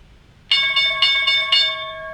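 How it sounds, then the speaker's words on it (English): A bright metallic stock market opening bell clangs five times in quick, even succession, loud and close, its ringing tone lingering after the last strike. "the stock market bell will be signing off in about 10 seconds"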